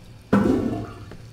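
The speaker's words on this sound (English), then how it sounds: "It doesn't even flush right" A toilet flushing in the video game Fahrenheit (Indigo Prophecy): a sudden loud rush of water that starts abruptly, then swirls and drains away over about a second, heard alone.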